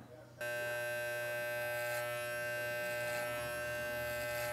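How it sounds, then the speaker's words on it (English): Hair clippers with no guard buzz steadily and close during a home mullet haircut, a constant electric hum that starts abruptly and continues throughout. "we're gonna grab a pair of clippers and we are gonna do a no guard"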